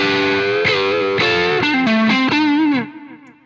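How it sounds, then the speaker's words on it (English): Loud, heavily distorted electric guitar plays a short phrase of hard-picked notes, the picking attack pushing the gain, with thick high-gain sustain, then rings out and fades. "Got all this range of gain just by picking hard"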